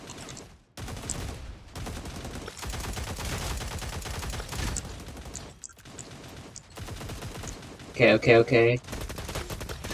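SMG gunfire in a tactical shooter video game, rapid automatic bursts repeating through most of the span, close and loud, with a brief pause and a louder, more tonal burst near the end; a voice speaks briefly.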